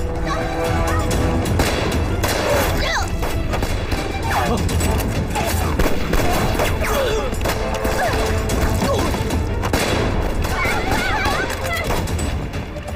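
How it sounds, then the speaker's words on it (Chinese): A loud, chaotic war-film battle scene with sharp bursts of gunfire and heavy landmine blasts over a dense, continuous rumble. "刚才你有没有听见爆炸声？"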